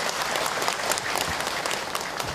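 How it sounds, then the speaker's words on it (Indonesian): Steady applause from an audience at an Islamic lecture, a dense wash of clapping that holds at an even level throughout. "Tepuk tangan untuk beliau yang bertanya."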